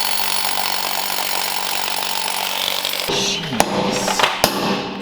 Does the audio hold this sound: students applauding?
no